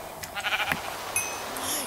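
Several short, faint sheep bleats from Minecraft, spaced across a couple of seconds against quiet game ambience.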